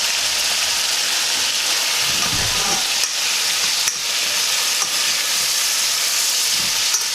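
Ackee, saltfish and seasonings fry in a pan with a constant bright sizzle and hiss, close and steady throughout, with faint stirring and a few small scrapes.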